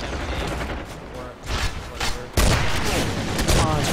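Sustained gunfire from a weapon picked up in the Area 51 video game, loud continuous bursts with a heavier blast midway, and a voice talking over it.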